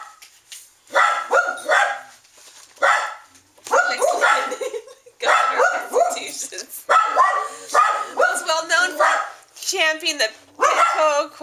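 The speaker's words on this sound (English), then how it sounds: "Sorry if you can't hear me over these dogs." Several dogs barking and yipping in excited bursts, loud and close, with short pauses between volleys and some whining mixed in, over a stretch of about eleven seconds.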